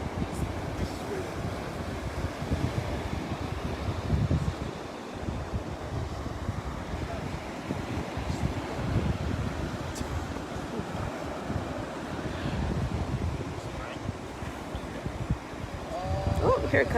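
Ocean waves wash onto a sandy turtle-nesting beach during a morning hatchling release, a continuous rolling surf mixed with wind buffeting the microphone, steady and moderately loud throughout.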